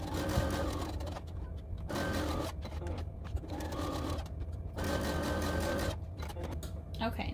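A sewing machine stitches fabric for a patchwork tote bag, running in several bursts of fast, steady whirring with short pauses between, close and moderately loud.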